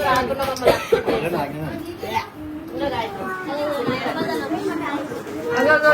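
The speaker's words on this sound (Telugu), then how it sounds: "నాకు దగ్గు వస్తుంది" A few short coughs break through lively background chatter of children and adults talking and playing nearby.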